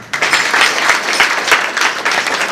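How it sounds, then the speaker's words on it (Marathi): An audience at a kirtan applauds in a sustained, dense burst of clapping, loud and close, lasting throughout with no clear talking over it. "टाळी वाजवा."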